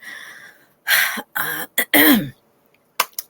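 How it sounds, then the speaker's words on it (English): Someone clears their throat several times in short, rough bursts, close to the microphone, with brief silences between them. "Let me clear my throat."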